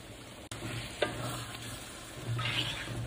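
Spices, yogurt and boiled mutton stirred together in a pot for mutton biryani, a steady scraping stir with a soft sizzle and a brief clatter of the spoon, close and moderately loud.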